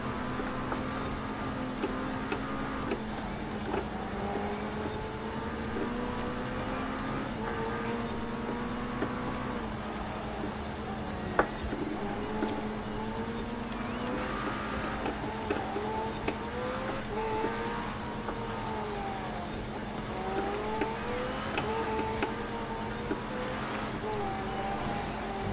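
Racing cars in Forza Horizon 4 driven from a first-person view, with a continuous engine drone rising and falling through gear shifts, occasional tire squeals and faint talk underneath.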